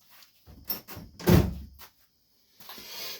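A catch-all drawer in a garage workshop is shut, giving a few scraping slides and a solid wooden thunk, followed by a quiet pause and a faint rustle, with no talk.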